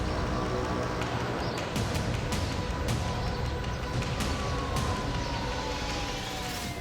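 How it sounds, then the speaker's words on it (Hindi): Air raid sirens wail across the city of Azov after a drone strike, a steady, distant drone of sirens beneath a constant roar of background noise, with one rising and falling tone gliding slowly downward. "पूरे शहर में सायरन बजने लगे।"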